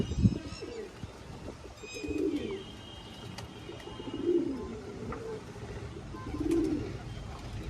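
Pigeons coo in low, rolling bursts about every two seconds, close by on a rooftop terrace, with faint chirps and distant traffic in the background.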